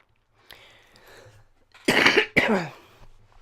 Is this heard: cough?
yes